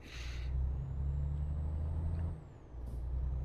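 Truck air brakes hiss in Euro Truck Simulator 2: a short sharp release of air over a steady low engine rumble, followed later by a second brief hiss.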